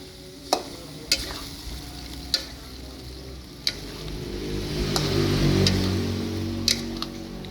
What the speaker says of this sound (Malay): Biarkan pari ni mendidih tak apa dah.